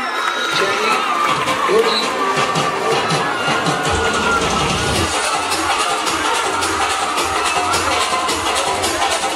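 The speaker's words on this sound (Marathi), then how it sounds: "गावदेवी गोविंदा पथक जरा टाळ्यांचा कडकडाट होऊ दे यांच्यासाठी" A large outdoor crowd at a Dahi Handi festival in Malad West roars, cheers and claps for the Gavdevi Govinda troupe, a loud, dense, continuous wash of voices and applause with children shouting throughout.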